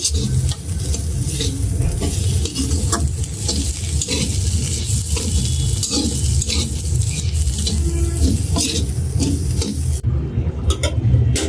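Bitter gourd frying and being stirred in a pan over low gas flame, a steady close sizzle with repeated scraping stir strokes running throughout.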